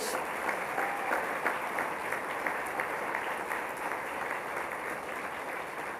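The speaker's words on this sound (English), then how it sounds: "And please give them a round of applause." Audience applause fills a formal hall at the opening session of the 55th OAS General Assembly in Antigua and Barbuda, honouring four steel pan players; steady, dense clapping runs throughout at moderate distance with no speech over it.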